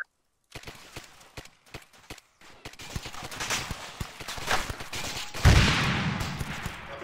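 Gunfire in the military shooter game Arma 3 during an online multiplayer firefight: scattered single shots and short bursts crack out at varying distances, building into denser, louder volleys toward the end.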